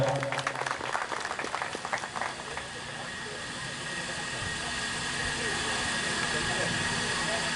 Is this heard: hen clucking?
no